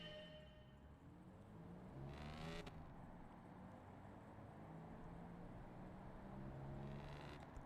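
A race car engine in the Gran Turismo 7 racing game drones steadily at low volume, with a brief rising whine as it revs up and a faint repeat near the end, and no talk over it.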